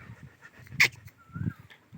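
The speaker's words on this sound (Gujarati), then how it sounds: "કૂતરી પાણીમાં પડી હતી" A wet dog that had fallen into water pants and whimpers close by in a village setting, with a sharp brief yelp partway through and faint background sounds.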